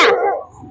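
A dog gives one loud, close bark at the start, then trails off into a softer whine or whimper in the open at night.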